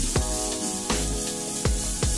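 Crushed meat with ginger and garlic sizzling in a hot pan, a steady frying hiss broken by a few sharp scraping stirs about every three-quarters of a second, close and moderately loud.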